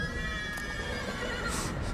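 Donkey in The Witcher 3: Blood and Wine braying at a castle, a close, steady, rasping donkey call lasting the whole short stretch with no talk over it.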